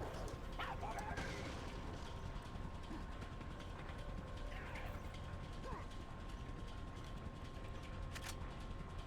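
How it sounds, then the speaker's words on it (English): Crane machinery in Resident Evil 4 starts up with a steady mechanical ratcheting and gear clatter, running continuously at moderate level under a constant game-ambience drone. "I guess blowing up those guns would turn on that crane."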